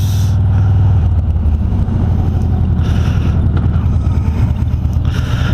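A motor vehicle engine revs under throttle while riding through a downtown street, a steady loud low rumble with wind buffeting, running continuously without a break.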